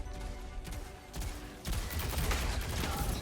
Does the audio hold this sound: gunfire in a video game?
yes